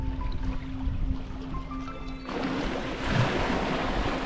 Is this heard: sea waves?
yes